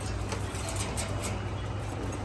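Highflyer Damascene pigeons pairing coo softly in a low, continuous murmur close by, with faint chirps and a bit of rustling, and no one talking.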